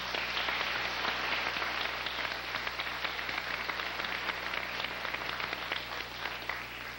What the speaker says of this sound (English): So please join me in another round of applause for Daryl.